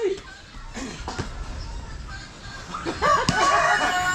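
A rooster crows once in a busy outdoor yard, a loud, close call rising over children's voices and chatter that continue throughout.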